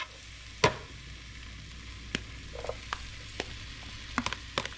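Peppers sizzle and pop in a hot pan for a week-night pork chop Italiano meal, a steady low frying hiss broken by sharp spitting crackles and occasional clanks of stirring, with no talking.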